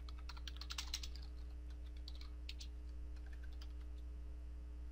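Typing on a computer keyboard: a burst of rapid close key clicks, then scattered lighter taps over a low steady hum.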